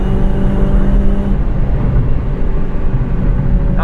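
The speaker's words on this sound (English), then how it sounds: "It's so torquey and it sounds like a rally car. It's buzzing." A remapped Honda Civic Type R FD2 engine revs hard in VTEC, a loud, buzzing, close-up drone held steadily with no talk.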